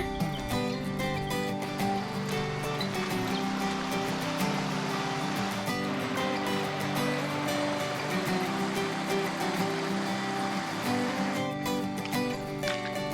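A stream flows beside a campsite near Kaeng Khoi, Saraburi, a steady broadband rushing that stays even and unbroken throughout, with faint tonal hum and scattered clicks.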